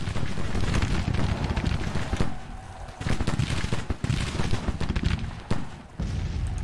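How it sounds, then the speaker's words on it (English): Dense musket volleys crackle in Grand Tactician: The Civil War, a loud, continuous stream of overlapping shots broken by brief lulls, with massed rifle fire filling the battlefield. "Recover and start firing."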